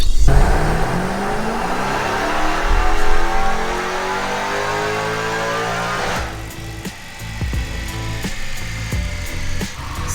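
A Hemi-swapped Nissan 350Z roars on a dyno pull, its engine note climbing steadily in pitch for about six seconds, loud and close, then dropping off into a rough, pulsing idle with rattles.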